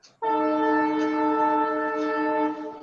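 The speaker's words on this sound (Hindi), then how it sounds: "कोई रेल ट्रेन सबकी आवाज आ रही" Train horn blaring through a student's unmuted microphone during an online chemistry class, a loud sustained harmonic blast lasting over two seconds with no talk over it.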